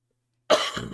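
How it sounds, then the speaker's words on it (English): One sharp, close cough breaks the silence, followed by a brief rough exhale. "Yes, still have a cough."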